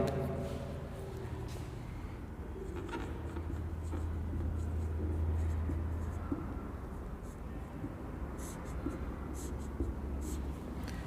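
Chalk or marker scratches steadily on a board during a math lecture, a continuous faint scraping texture over low room hum, with no speech.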